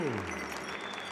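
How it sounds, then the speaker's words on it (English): Audience applause for dancers and singers at an American Indian heritage event, a steady, dense wash of clapping that stays even through the brief stretch, with a voice audible at the start. "How about a big round of applause for all our dancers, all our singers?"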